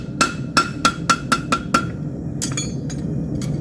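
A farrier hammers a steel horseshoe on an anvil, ringing strikes in a steady run of about seven close, bright blows, then a few looser clanks and taps, with no talk.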